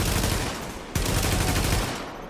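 Gunfire in The Division video game, a loud continuous stream of rapid shots with one sharp crack standing out midway, dense and without talk.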